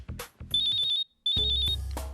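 A mobile phone ringtone plays as a bright, rapid electronic trill in two bursts with a short gap between, loud and close over faint background sounds.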